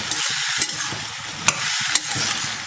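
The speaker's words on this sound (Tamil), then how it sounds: "இப்போ இதை கொஞ்ச நேரம் நல்லா வதக்கி விடலாம்" Tomato, eggplant and potato being sautéed in a pan for a Chettinad dish: a steady, close sizzle of frying with scraping, clinking stirring strokes on top, no speech.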